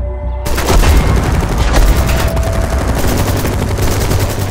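Rapid cartoon gunfire hammers against an armored vehicle in a dense, loud, continuous burst of shots and impacts lasting the whole stretch, with no talk over it.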